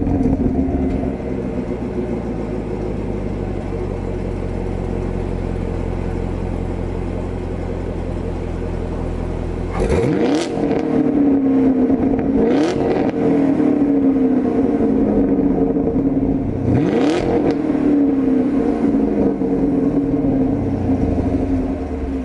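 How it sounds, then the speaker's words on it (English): A Chevrolet Camaro SS exhaust with valves closed, idling steadily before three sharp revs that swell and fall back, loud and close with no talk. "Here's the before with the valves closed."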